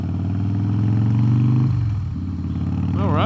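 A 2016 Harley-Davidson CVO Pro Street Breakout motorcycle's exhaust rumbles loud and close, a deep steady throb that drops as the throttle eases, with a brief voice at the end.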